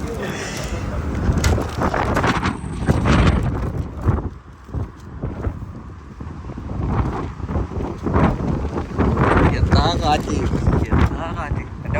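Strong outdoor wind buffeting the microphone in gusty, roaring bursts while someone talks over it.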